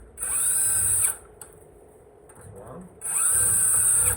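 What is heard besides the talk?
power screwdriver with Phillips bit removing foot pad screws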